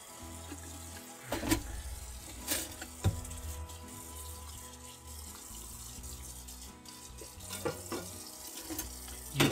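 A kitchen tap runs into a sink during home cooking, a steady close stream of water with occasional clunks and clatters of dishes and utensils, no voices.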